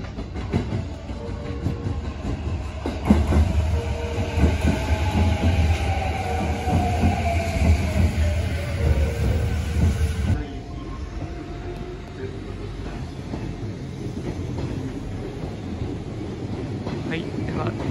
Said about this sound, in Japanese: 電車が来ました。